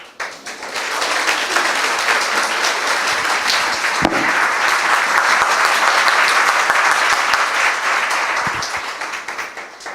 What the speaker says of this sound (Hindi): ये यीशु के लिए ताली बजाएंगे